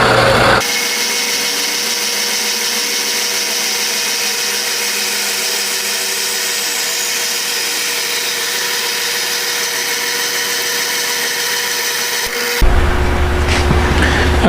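A power saw blade cuts through exhaust pipe while custom turbo manifolds are built for a 6.9L IDI diesel, giving a steady, loud, close grinding whine that runs unbroken for about twelve seconds before cutting off abruptly.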